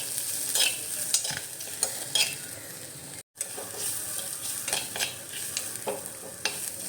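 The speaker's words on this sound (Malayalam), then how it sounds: "ഒരു ഗോൾഡൻ കളറാവുന്നവരെ നമ്മൾ ചെറുള്ളി ഇളക്കിക്കൊണ്ടിരിക്കാം." Small shallots stirred in a pan over medium flame as they fry toward golden, with a steady bright sizzle and repeated scraping stir strokes, near and alone, with a brief dropout midway.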